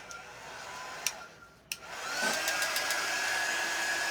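A hair dryer blowing: a steady whir, a couple of sharp clicks and a brief dip, then a rising whine that settles into an even, moderately loud drone, with no talking.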